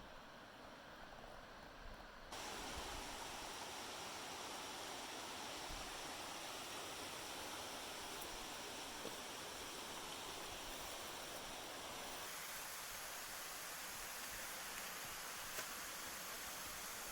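Lester Creek rushes steadily through a forested gorge, a constant broadband roar of flowing water heard alone, with the level jumping up after the first couple of seconds.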